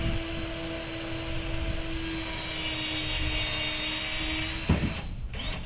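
A new scrapping tool strips aluminum wire with a steady, droning motor whine that holds through most of the stretch, then a couple of sharper mechanical bursts near the end.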